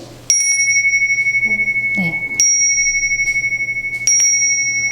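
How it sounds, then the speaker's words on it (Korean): A bright bicycle bell rings three times, evenly spaced, each ring lingering with a clear, sustained tone. "좀 평온한 느낌을 가지고 싶을 때 이런 종소리도"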